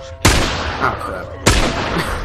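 Two loud, sharp gunshots ring out about a second apart in The Last of Us video game, each followed by a short echoing decay.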